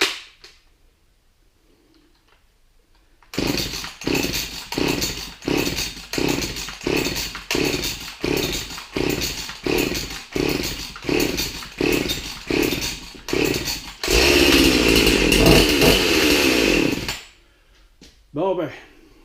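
A Jonsered 2149 chainsaw, choke pulled, is started by hand: a steady run of about a dozen rhythmic starter-cord pulls, each a short rasping burst, then the engine catches and roars loudly for a few seconds before cutting out.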